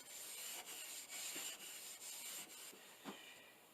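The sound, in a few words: steel wool rubbing varnished wooden boards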